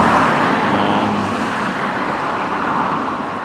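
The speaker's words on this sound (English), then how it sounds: "lorries going past, can't hear myself think" Heavy lorries rumble past on a road beside a small local horse slaughterhouse in Wiltshire, a loud, steady broadband roar of traffic filling the whole stretch, close by and easing slightly toward the end.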